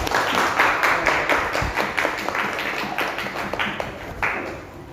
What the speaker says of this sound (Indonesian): Berikan tepuk tangan ke teman-teman kita.